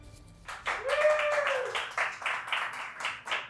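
A handful of hand claps in quick succession, fairly close, with a brief high vocal whoop over the start.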